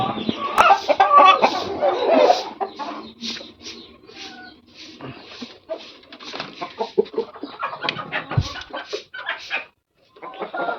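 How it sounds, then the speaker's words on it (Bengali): Several tiger breed chickens cluck and murmur nearby on a farm in an irregular chorus, with a few louder squawks and soft cooing mixed in. "এখানে হচ্ছে আমার টাইগার মুরগির খামার এখানে দেখো অনেক বড় মোরগ"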